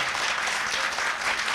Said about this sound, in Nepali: जोरदार ताली एकपटक फेरि अभयजीको लागि